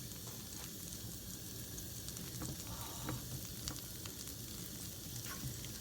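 Pancake batter frying in a pan for a plant-based breakfast, a steady soft sizzle with occasional small crackles and pops, no talking.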